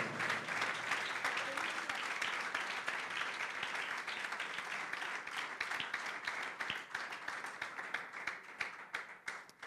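Church congregation applauding the Lord in a strong, dense burst of clapping that grows into sharper, more distinct individual claps toward the end, with some voices mixed in.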